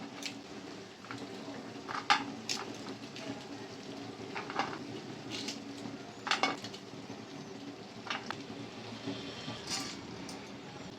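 Spinach chorchori made Bengali style with shish palong and fried bori is stirred in a pan, giving intermittent clinks and scrapes of a utensil against the pan over a low, steady sizzle.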